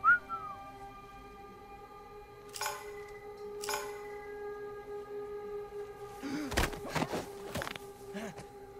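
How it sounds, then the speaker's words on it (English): A short whistled tone at the start, set among the steady tonal ambience and scattered thuds and clatter of the Uncharted 4: A Thief's End video game. "Can you whistle?"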